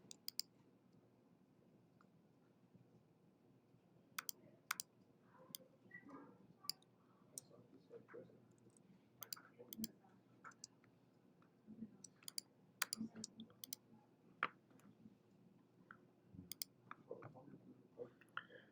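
Computer mouse clicks while selecting shapes in Illustrator, a scattered series of sharp, close, quiet clicks at an irregular pace over soft background noise, with no talking.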